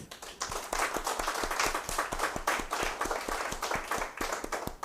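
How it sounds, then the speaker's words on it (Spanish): A modest audience at a health talk gives a round of applause for the doctor, the individual hand claps sharp and distinct, fairly close and quiet, and no talk is heard. "les damos un caluroso aplauso y agradecimiento a la doctora."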